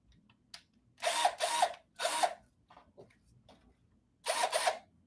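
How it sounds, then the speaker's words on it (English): Three quick bursts of a power drill whirring while working on an Ender 3 3D printer, then a pause with faint clicks and handling, and one more short burst near the end. "Now we take our trusty drill."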